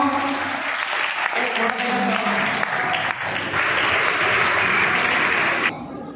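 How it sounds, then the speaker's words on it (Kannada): An audience at a school science day prize distribution claps in a dense, sustained burst of applause that holds steady before cutting off near the end, with voices mixed in. "ಜೋರಾದ ಚಪ್ಪಾಳೆಯನ್ನು ತಟ್ಟಬೇಕು"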